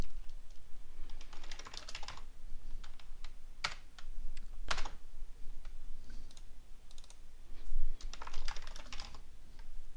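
Typing on a computer keyboard in bursts of rapid clicks with a few louder isolated key strikes, close and steady, while entering a label in LibreOffice Draw.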